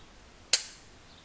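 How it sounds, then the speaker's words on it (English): A handgun held vertically and fired left-handed, one-handed, at a target gives a single sharp crack that decays quickly into quiet, with no other sound around it. "I have to hold the gun vertically, and I'm shooting it with my left hand"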